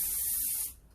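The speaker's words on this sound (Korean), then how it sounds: "저는 이미 이제 모발이 조금 상해 있는 듯한 느낌이 있어서 바로 스프레이를 뿌릴게요" Hairspray is sprayed onto a hair updo in one steady, close, loud hissing burst lasting most of a second before cutting off into quiet handling noise.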